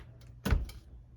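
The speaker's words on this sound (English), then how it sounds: "Close the door." An oven door swings shut with one close, solid thud and a short rattle, preceded by a faint creak.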